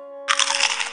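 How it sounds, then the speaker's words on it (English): A cartoon crunching sound bursts in loud and close, a brief dense crackle over a steady held musical tone. "Did you hear that crunching sound?"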